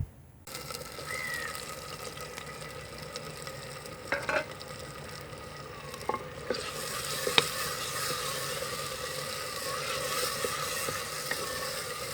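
Tomatoes and green chilies drop into a hot pan in a village-style kitchen, setting off a steady, fairly loud sizzle with a few sharp pops and stirring scrapes, growing brighter and fuller partway through, with no talking.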